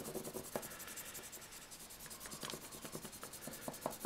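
Light, steady rubbing strokes over paper pick up the cut edges of a fish frottage, a continuous scratchy drawing sound with brief stronger swipes, close and fairly quiet.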